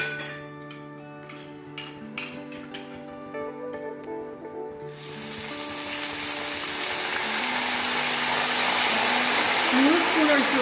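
Sliced raw banana chips fry in oil on a full flame. After quieter tones with light ticking, a loud, steady hissing sizzle surges in when salt water is poured into the oil, and it continues to the end.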